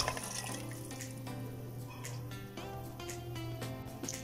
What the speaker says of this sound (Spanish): le voy a agregar 1 taza de agua